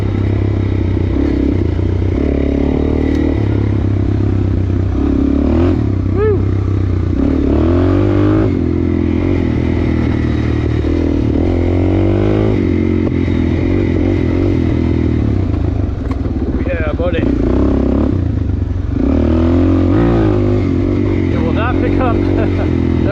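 Suzuki DRZ400 heavy trail bike with an aftermarket exhaust ridden on single track, a continuous loud engine drone with throttle swells and clattering, with a rider talking over it.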